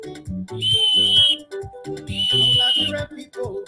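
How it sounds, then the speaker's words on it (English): A sports show opens with two long, loud whistle blasts, each held about a second, between bursts of talk. "Anytime I'm ready for my sports show, I gotta blow the whistle"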